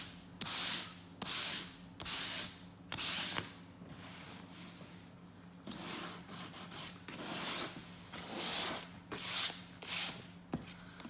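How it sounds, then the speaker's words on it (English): A Riley Pathfinder's leather car seat is lightly sanded by hand in rhythmic back-and-forth strokes, each a close, soft rasping swish separated by short pauses, about a dozen in all. "And just very, very lightly sand over the surface."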